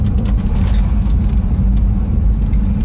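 Steady low rumble of a 1970 Plymouth Superbird with its 440 V8, heard from inside as it cruises a slow winding back road in Carlisle, a constant drone filling the whole stretch with no talking.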